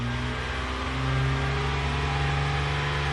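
Engine of a 2008 Hyundai Santa Fe revs high and holds steady, a loud, close, constant drone with a slight rise in level partway through.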